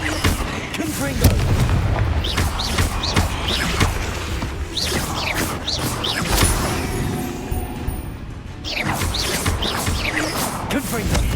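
Confringo blasting curses going off during combat in the video game Hogwarts Legacy: repeated booming explosions and crackling impacts in close succession. Game voices are heard under the blasts.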